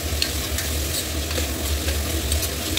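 Onions, tomato and ginger-garlic paste fry in a pan for egg biryani, giving a steady, close sizzle with light stirring scrapes throughout and a low hum underneath.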